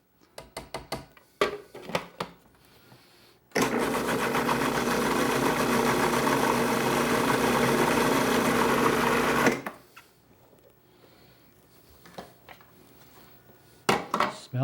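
A food processor blends asparagus into a smooth purée, running loud and steady for about six seconds. Clinks and knocks of handling come before and after it.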